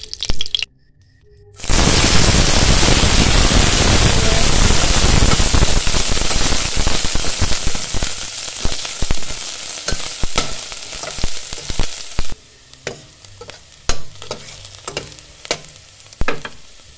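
Cooking oil sizzling in a pan, bursting into a loud crackling fry after a brief quiet start, then dying down into intermittent pops and clicks.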